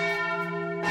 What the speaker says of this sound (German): Die Kirchenglocken läuten